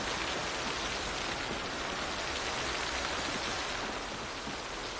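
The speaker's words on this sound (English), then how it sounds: "it sounds like the rain is getting louder" Steady, dense rain pours down in Project Zomboid, a continuous broadband hiss of drops on surfaces, close and unbroken throughout with no voices.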